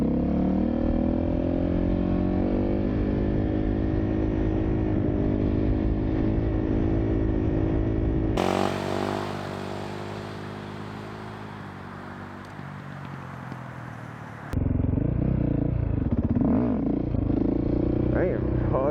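A dirt bike engine revs hard during wheelies, a loud buzzing drone that cuts to a quieter rough patch before the rising engine note returns, with speech mixed in.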